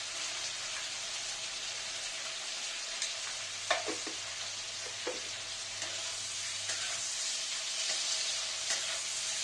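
Onions sizzle in a hot pan while a village-style fish dish cooks, a steady soft frying hiss with occasional stirring clicks and taps, close and fairly quiet, with no talking.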